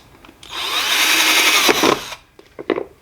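A power drill drives screws into a wooden plant stand, with a loud, steady motor whine lasting about a second and a half, then a stop, followed by a few light knocks and clatters of wood.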